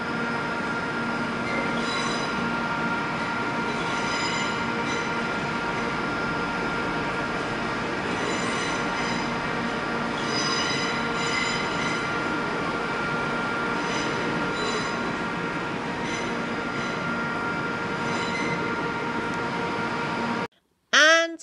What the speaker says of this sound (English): And now let's take a look at a CrossCountry Class 170 departing, heading northeast to Burton-on-Trent.